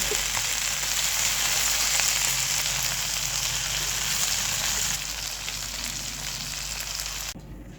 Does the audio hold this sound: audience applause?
no